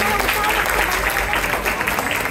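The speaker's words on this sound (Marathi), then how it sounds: "त्या सगळ्यांसाठी एकदा जोरात टाळ्या झाल्या पाहिजे." An audience at a Mangalagaur community celebration bursts into loud, sustained clapping that fills the whole moment, dense and close with crowd murmur underneath.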